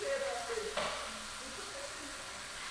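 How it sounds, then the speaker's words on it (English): Chickpeas sizzle softly in a hot pan as they are given a quick stir, a faint steady hiss with a brief scrape, under a quiet kitchen background. "And I'm just giving it a quick stir."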